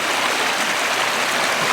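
A creek flows in a steady, broadband rush, continuous and fairly loud, filling the scene without pauses.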